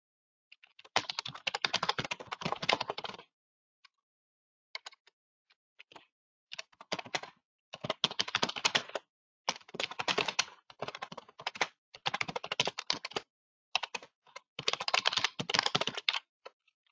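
Someone types a comment on a computer keyboard in bursts of rapid, close clicking, separated by short pauses of silence.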